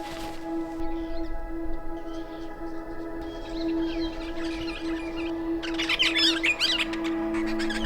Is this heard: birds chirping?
yes